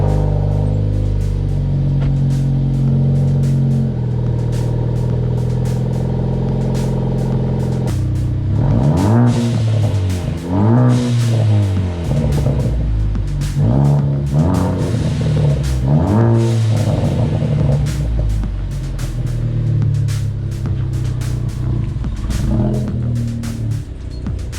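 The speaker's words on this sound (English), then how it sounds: "let's get this cold start going" Ford Focus ST engine cranks and catches on a cold start, settling into a loud steady idle that swells with several throttle blips and revs before easing back, heard up close with no talk.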